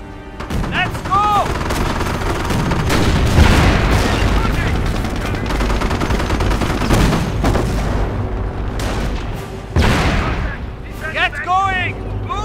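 Heavy gunfire and explosions rumble through a Company of Heroes: Tales of Valor battle at the Falaise Pocket, with dense bursts, booms and a continuous roar, voices calling under the noise.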